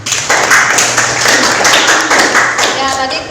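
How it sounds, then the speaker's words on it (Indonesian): Classroom students clap together after a group presentation, a steady burst of hand claps filling the whole moment with little pause. "Beri tepuk tangan dulu anak-anak."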